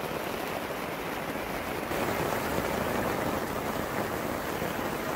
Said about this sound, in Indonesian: dan hujan deras masih berlangsung